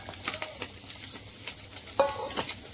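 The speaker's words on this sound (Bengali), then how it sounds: "দেখো মাছের ঝোল ঝালের ঝোলটা কিন্তু সুন্দর করে ফুটে গেছে" Spicy Bengali fish curry bubbling in a pan, with scattered stirring scrapes and light clinks over a soft simmer, brief and close, no voices.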